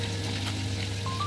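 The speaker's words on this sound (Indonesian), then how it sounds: "Goreng dulu ikannya ya teman-teman." Fish frying in a pan of hot oil, a steady close sizzle with a constant hiss and no pauses.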